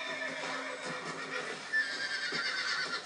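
A horse neighs and whinnies in Red Dead Redemption: Undead Nightmare, a loud, close whinny with a faint clip-clop of hooves beneath it and no talking over it.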